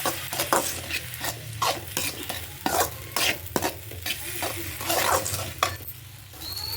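Fried rice seasoned with chilli powder and dark soy sauce being tossed and mixed in a hot pan, close repeated scraping and clanking strokes of a spatula over a continuous sizzle, with no talking.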